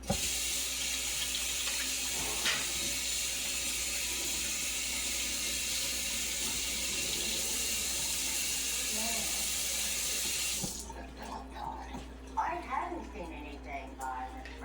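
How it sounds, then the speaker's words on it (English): A kitchen tap runs steadily into a sink while hands are washed, a loud continuous hiss of flowing water for about ten seconds before it shuts off, followed by light handling noises and a voice speaking. "Now you're gonna wash your hands again."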